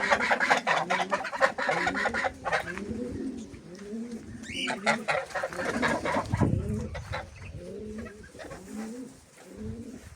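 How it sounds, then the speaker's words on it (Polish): Free-ranging poultry on a small farm, geese out in the open with young roosters nearby, giving a steady, busy chorus of clucks, honks and coos that overlap throughout at close range. "Tutaj gąski sobie wypuściłem."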